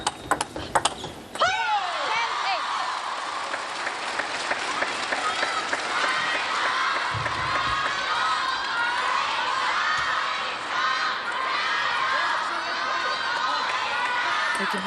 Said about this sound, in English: You can hear the crowd cheering the name of Sunyoung Sha.